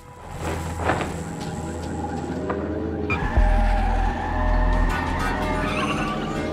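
Car in the video game Watch Dogs: Legion pulling away and skidding, a steady engine drone joined midway by a loud low surge and tire noise, continuous and close with no talking.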